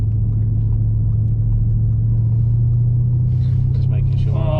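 A 715-horsepower 2020 Audi RS6 is being warmed up, with a steady deep engine drone holding throughout and rising slightly in pitch toward the end, as voices and movement come in over the top.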